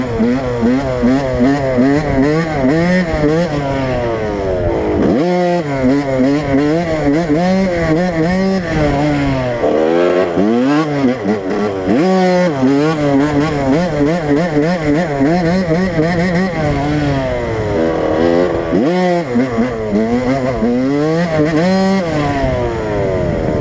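A 1995 Suzuki RM 80cc two-stroke dirt bike revs on a test ride, its engine rising and falling in pitch repeatedly through shifts and throttle blips, loud and close throughout.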